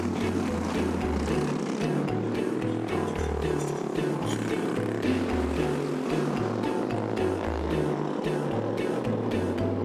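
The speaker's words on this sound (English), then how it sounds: "It was like a racing event. It was go-kart racing." Go-kart engines drone steadily through a racing event, a continuous loud buzzing roar with rising and falling revving as karts pass, no talk heard.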